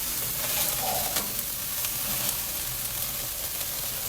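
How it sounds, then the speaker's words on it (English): Meat sears on a Hestan Aspire grill's sear burner, giving a steady, dense sizzle and crackle that holds level throughout, close and fairly loud with no voices. "Sear burner, just cooking it up, trying to get a nice sear on there."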